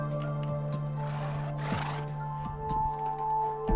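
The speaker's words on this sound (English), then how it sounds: "we can see the stable where we've got 8 horses" Several white horses in a stable in Minecraft, one neighing in a clear whinny midway, with scattered hoof clip-clops and game sounds over a steady background tone.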